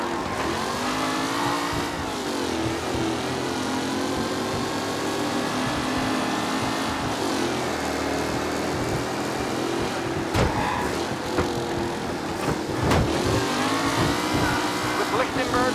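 Cars race in Mafia Definitive Edition, engines roaring and revving continuously with occasional tire squeals and impacts, while a player talks over the action.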